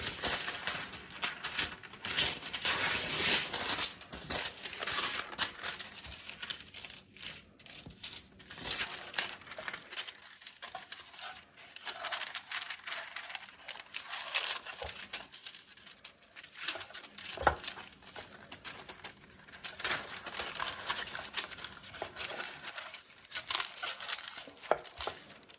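Parchment paper crinkles and rustles continuously as it is handled and pressed into a loaf pan for fruitcake, close and fairly loud, with crisp crackling bursts and no talk.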